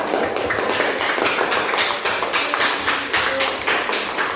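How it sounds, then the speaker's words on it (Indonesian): A group of schoolchildren in a classroom gives Group 4 a round of applause: dense, steady clapping from many hands that stays loud and close throughout. "beri aplaus yang meriah untuk kelompok 4"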